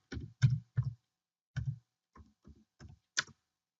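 Keys tapped on a computer keyboard while typing a note title, about nine distinct close keystrokes in an uneven rhythm with short pauses between, alone against silence.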